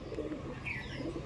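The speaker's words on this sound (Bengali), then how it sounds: "কত সুন্দর পায়রা আপনার সামনে দেখাচ্ছি" A pair of Madrasi pigeons coo softly and close by in a few low, throaty bursts against a quiet background.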